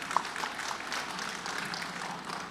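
Faint, continuous applause fills a large outdoor crowd gathering at a police corn-harvest event, a steady wash of clapping heard from some distance.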